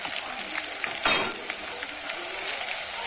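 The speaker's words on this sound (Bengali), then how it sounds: "এবারে কিন্তু আমি বেটে রাখা আদা পেঁয়াজ আর রসুন আমি কিন্তু এখানে তিন চামচ দিয়ে দেব" Ground ginger, onion and garlic paste fries in hot oil in a pan for a crab curry, giving a loud, close, steady sizzle with a brief hiss burst as the paste goes in.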